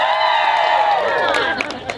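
Crowd at a live music Q&A event cheering and whooping for a happy song, a dense sustained roar that thins slightly toward the end.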